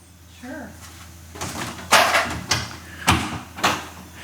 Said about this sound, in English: Carly, you wanna open the door